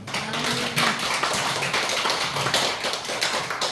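A church congregation applauds a pastor who led the service, dense sustained clapping filling the room at steady loudness throughout, with a faint voice underneath.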